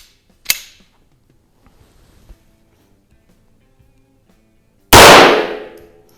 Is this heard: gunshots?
yes